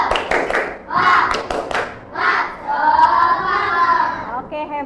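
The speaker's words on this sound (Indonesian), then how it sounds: "Tepuk semangat." Schoolchildren in a classroom do a rhythmic spirit clap, several quick bursts of hand claps near and loud, alternating with children chanting in unison.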